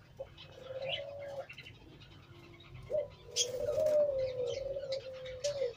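Teddy pigeons, a Pakistani high-flying breed, cooing close by in a few drawn-out low calls with short gaps, with faint chirps and small rustles around them and no talking.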